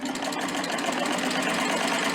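A serger running steadily as a raw fabric edge is fed past its cutting knife while hemming with bands, giving a continuous close mechanical whir with fine rapid stitching rhythm and no pauses.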